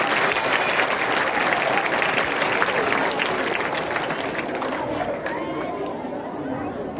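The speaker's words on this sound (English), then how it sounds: "big applause on this performance." Crowd applause at a school Independence Day celebration performance, mixed with chatter and cheering, loud at first and gradually thinning out as the clapping fades.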